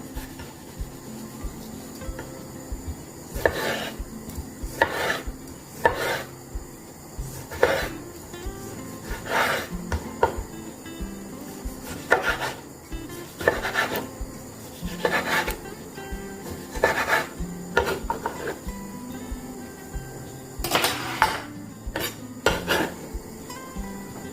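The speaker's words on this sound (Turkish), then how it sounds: "Domatesleri küp küp doğrayacağım." A knife dices tomatoes on a cutting board, sharp knocks in an uneven rhythm, close up, with light clinks of kitchenware and no talking.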